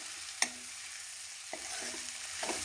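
Chickpeas and potatoes fry in a pan with turmeric and spices, a steady sizzle broken by three sharp clicks of a utensil stirring against the pan.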